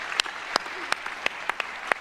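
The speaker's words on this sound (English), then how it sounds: "How about a round of applause for our special guest?" Scattered, sparse claps from an audience greeting a special guest at a science talk with a Nobel laureate, a handful of distinct sharp hand claps spaced irregularly rather than a full ovation.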